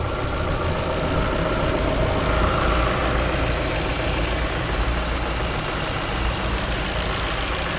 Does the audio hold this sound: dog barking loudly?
no